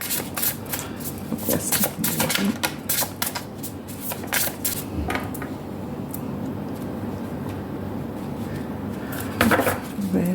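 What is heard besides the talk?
tarot cards being shuffled and drawn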